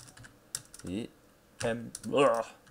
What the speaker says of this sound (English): Sorry, my typing is horrible.